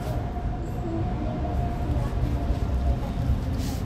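Rumbling of a Rome Metro line C train running between Monte Compatri-Pantano and San Giovanni, a steady low drone with faint rattles and a brief high squeal, heard from inside at moderate loudness.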